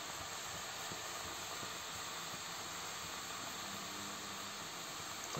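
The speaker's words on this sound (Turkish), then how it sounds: "İyi kaynıyor güzel." A pot of onion-based lunch boils on a home stove, giving a steady, even hiss and bubbling that holds at a constant moderate level throughout, with no voices.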